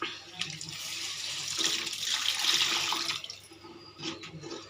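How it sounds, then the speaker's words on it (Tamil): Water being poured into a pot of pomfret fish curry seasoned with curry and fish gravy powder: a continuous splashing pour that swells in the middle and tapers off, close by, with a few trailing drips. "இப்போ தண்ணி சேர்க்க போகிறோம்."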